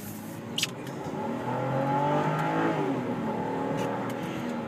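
A 2008 Volvo V70's 3.2 liter inline six engine revs up under acceleration, its smooth, rising drone building and holding steady from the cabin after a brief click near the start.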